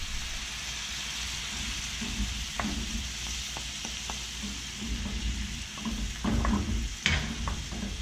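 Lobster scampi sizzles in a pan with butter, lemon juice and parsley while being stirred, a steady close frying hiss broken by scraping clicks and louder bursts near the end.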